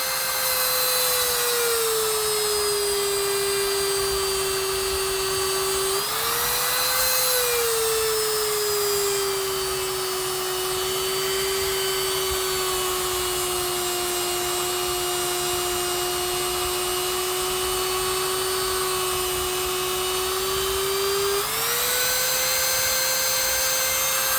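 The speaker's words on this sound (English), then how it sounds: "I got to get down in there and grind that out a little bit." A Dremel rotary tool grinds while carving a fairy village, a loud, continuous high whine heard close up whose pitch dips briefly a few times as it bites into the material.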